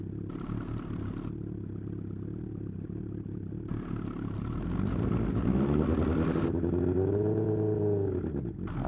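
A 1984 Honda CB900 F with a 900 engine and flat slide carburettors idles steadily, then revs up twice in long, loud, rising swells of throttle that settle back to a rumbling idle, close by.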